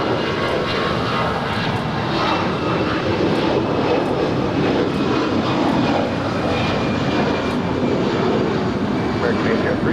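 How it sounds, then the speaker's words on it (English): American Airlines Airbus A319, 22 years old in Allegheny Heritage livery, taking off from LAX for St. Louis: a loud continuous jet engine roar, steady and close, with faint intermittent ticks over it. "that's American 803 heading off to St. Louis. It's a 22-year-old A319 in the Allegheny Heritage livery"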